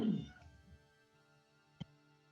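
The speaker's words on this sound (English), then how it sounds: "There's the familiar. It's back. Sorry. Hi, Thomas. Hello, kitty" A house cat gives one close meow that fades out, followed by a soft click, in an otherwise quiet room.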